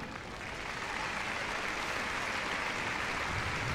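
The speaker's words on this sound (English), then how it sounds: "give them a big round of applause now as they leave the arena." Audience in the Crufts arena applauds a dog activities display as the working dogs leave. The applause is a steady, dense wash of clapping that holds at an even level throughout, with no voices standing out.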